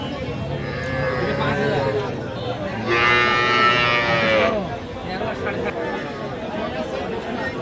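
Cattle and young bull and heifer calves low with a drawn-out moo at a livestock market in Dinajpur, rising mid-clip over steady crowd chatter and people talking.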